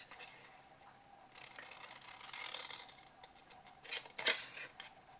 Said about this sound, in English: with my scissors I'm simply going to cut down that diagonal score line